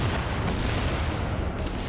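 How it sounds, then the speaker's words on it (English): A grenade blast in Tom Clancy's The Division co-op play, heard as a loud, dense, sustained roar of booming noise that fills the whole moment. "Wait, let me throw a grenade."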